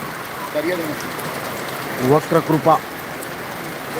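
Unseasonal rain falls at the vegetable market in Boisar, Palghar, a steady soft patter under brief speech from a nearby voice.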